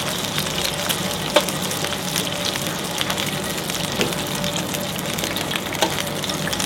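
Prawns fry in sizzling oil, a dense, steady crackle and spatter that carries through the whole stretch, with occasional louder pops and light stirring taps and no voices.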